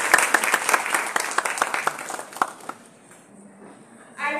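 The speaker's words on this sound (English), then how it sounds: "Please give a huge round of applause for them." An audience at an elocution contest's concluding ceremony claps in a dense, lively burst of applause that fades out after a few seconds, leaving a quiet room before a new sound begins at the end.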